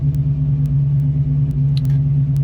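A 1968 Ford Mustang engine idles slightly high, a steady loud low rumble that holds evenly throughout, with a few faint clicks over it.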